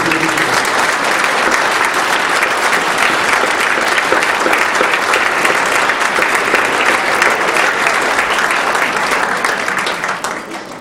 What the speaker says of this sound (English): please give them a round of applause as an appreciation of the gratitude